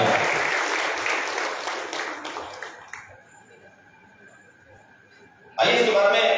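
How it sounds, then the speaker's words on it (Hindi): A crowd at an honoring ceremony claps for a few seconds and the applause gradually fades to near quiet, then a voice starts talking loudly near the end. "एक बार जोरदार तालियां।"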